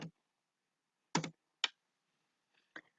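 A few quick keystrokes on a computer keyboard while entering a short message, heard as isolated close clicks separated by silence.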